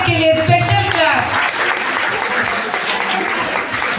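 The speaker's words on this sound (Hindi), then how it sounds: "तो जोरदार तालियां इसके लिए" At a school annual function in Delhi, a voice over the loudspeakers briefly trails off, and then a hall audience breaks into loud, sustained applause that fills the rest of the moment.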